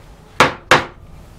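Two sharp mallet strikes on a curved gouge driven into wood, spaced about a third of a second apart, each a crisp percussive knock with a quick decay, close and loud against a quiet background.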